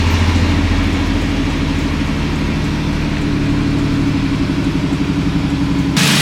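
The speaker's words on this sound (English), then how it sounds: "I'm gonna start the engine to see if there are any oil leaks" A fourth-generation Toyota 4Runner engine idles steadily and close by after a crank seal and crank pulley change, a continuous low rumble with no talk that cuts off abruptly near the end.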